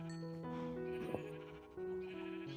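Sheep in the game Minecraft give a few wavering, nasal bleats that overlap one another, heard close and fairly soft against a quiet background.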